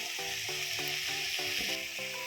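Ground ginger-garlic paste with salt fries in a pan for chicken mandakki, a steady close sizzle broken by regular scraping stirs, with no voices.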